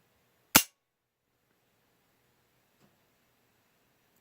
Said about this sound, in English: this is the reset on the mil-spec. Nice and positive, and the break again